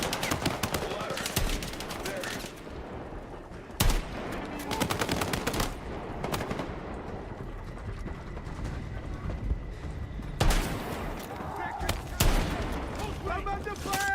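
Gunfire in the video game Battlefield 6: rapid automatic bursts at the start, then sharp separate volleys that return every few seconds, with game noise and voices around them.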